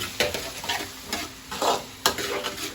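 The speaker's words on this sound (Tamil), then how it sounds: "இது கொஞ்ச நேரம் சாட்டே ஆகட்டும்." Tomato and cabbage sautéing in a pan for a cabbage-potato gravy, a steady close sizzle broken by several scraping stirs of a spoon against the pan, no voices.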